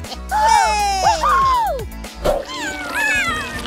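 Cartoon kittens in a PAW Patrol episode meow loudly and plaintively, several rising and falling cries in close succession, mixed with an animated soundtrack.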